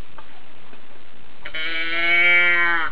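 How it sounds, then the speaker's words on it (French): A moo box toy lets out a single drawn-out, nasal, bleating moo that rises and then fades, following a moment of near quiet. "je me demandais pourquoi les boîtes à meux font meuh"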